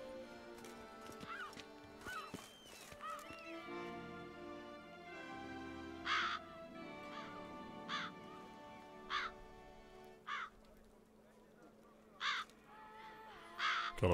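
Crows caw repeatedly in Witcher 3: Blood and Wine, harsh calls arriving in spaced bursts every second or two over an ambient game soundscape that also holds horse hoofbeats and a whinny.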